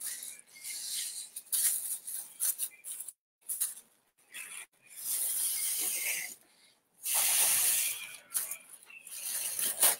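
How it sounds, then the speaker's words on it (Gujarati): Slow breaths blown into the hole of a polythene bag to puff it up like a balloon, heard as several soft, close breathy rushes separated by short pauses, with no talk. "આ કાણાવાળા ભાગથી તમારે મોઢામાં નાખીને ધીમે ધીમે ફુગ્ગાની જેમ ફૂલાવાનું છે"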